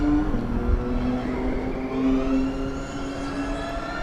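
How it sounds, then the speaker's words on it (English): A Formula Student race car on a skidpad whines and drones steadily at a distance, pitch shifting slightly as it runs continuously, with a brief thump near the start. "odd noises though from the car"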